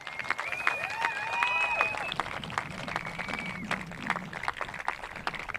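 A crowd applauds and cheers at the finals day of a EUROSUP stand-up paddle surf event, clapping steadily under an announcer talking over a PA.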